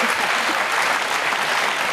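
Studio audience applauding during a German television game show, a dense steady wash of clapping that stays loud and even throughout without pause.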